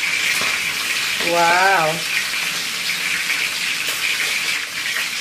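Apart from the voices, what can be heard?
washing ingredients under running tap water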